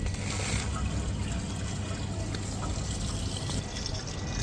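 Water rushes steadily through a sandblasted, powder-coated car radiator during a flush-out, a constant broadband hiss and trickle that holds at even loudness throughout.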